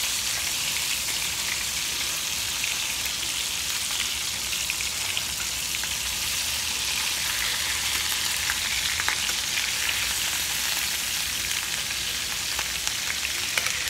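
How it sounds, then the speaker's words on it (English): Bacon-wrapped pork tenderloin sears in a pan with a dense, even, rain-like sizzle that holds steady and close from start to finish. "I'm gonna let it sear on this side"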